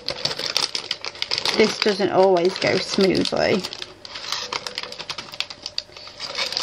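Tiny hard diamond-painting craft drills rattle and clatter as they pour from a small bin into a small plastic bag, while a person talks briefly over the pouring.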